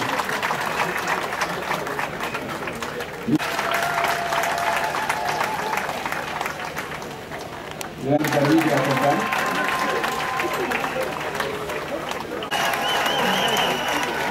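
Crowd at a UDPS political congress applauding, sustained clapping that swells in waves across the whole stretch, with shouts and cheers rising around the middle and a voice calling out over it.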